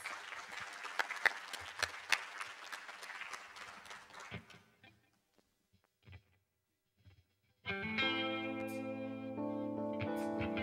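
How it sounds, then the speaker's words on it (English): Audience applause for Sarah Crawford Langowitz at a Unity North Atlanta gathering: dense clapping for about four seconds that thins out into scattered claps, then a short quiet before music starts. "Let's give another round of applause for Sarah Crawford Langowitz."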